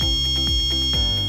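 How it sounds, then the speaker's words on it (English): An electronic device in sound mode beeps loudly and continuously, a harsh pulsing alarm tone with a rapid repeating rhythm, close and alone. "the device beeps for 2 to 3 seconds with one click on the sound button"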